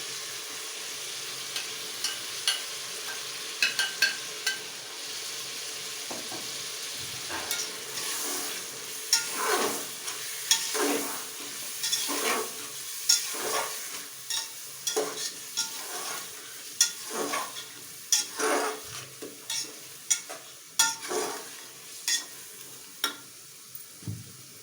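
Arvi gosht, taro and meat, being stirred and fried in a pan, with a steady soft sizzle under repeated scraping and clinking strokes of a spoon against the pan, close and fairly quiet, no talking.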